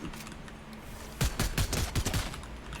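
Video game gunfire rings out in a quick burst of several sharp shots, clustered together and following a quieter stretch of background game noise.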